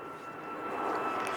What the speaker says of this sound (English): sorry about the aeroplane noise again